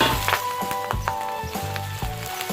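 Grilled fermented Thai pork (naem) stir-fried in hot oil gives a loud, continuous sizzle, broken by regular clattering scrapes of a spatula against the pan.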